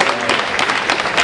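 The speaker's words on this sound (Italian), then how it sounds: "un applauso ci vuole" Loud, dense applause from a seated audience at a book presentation about the 1980s, many hands clapping steadily and close by for the whole stretch.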